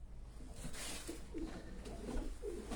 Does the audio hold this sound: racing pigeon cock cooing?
yes